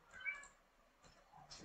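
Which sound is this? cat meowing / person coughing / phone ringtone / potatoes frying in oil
cat meowing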